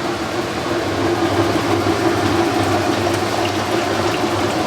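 A Whirlpool or Maytag washing machine filling its tub with water during a load of sheets gives a steady, loud rushing hiss with a low mechanical hum underneath, continuous throughout.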